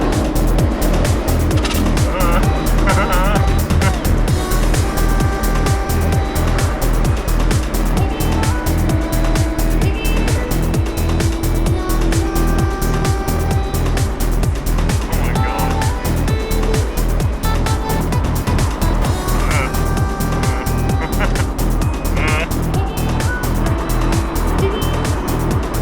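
A Nissan GT-R and another car race along a Japanese expressway, their engines holding a loud, sustained roar with a rapid pulsing beat throughout.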